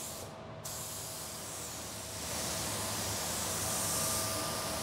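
A spray gun blows a steady hiss of air onto freshly applied water-based paint to force-dry it, the rushing noise close and continuous, growing slightly louder partway through.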